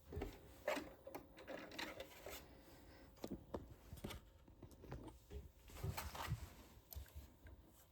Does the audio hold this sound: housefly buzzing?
no